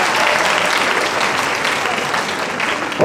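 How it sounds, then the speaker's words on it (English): Audience applause for the provost of a college of agricultural sciences at a university ceremony admitting new students: steady, dense clapping from a large crowd that holds evenly for the whole stretch. "Give him a round of applause."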